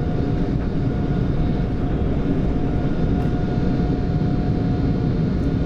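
A Boeing 747-8F cargo jet, carrying about 440 tonnes, climbs after takeoff, heard from the cockpit as a steady, loud broadband engine and airflow roar with a faint constant tone and no talking.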